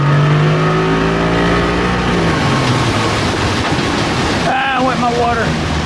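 An old outboard boat motor runs steadily with a loud, continuous droning hum that shifts pitch slightly as it works, accompanied by water wash and a brief voice near the end.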